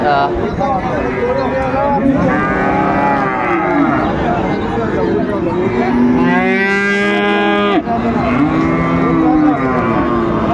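A cross-breed calf moos repeatedly at a Dinajpur cattle market, with several drawn-out, wavering calls rising over a busy, noisy crowd where people talk throughout.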